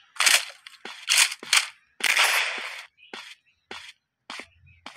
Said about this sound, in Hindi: What a great sniper shot.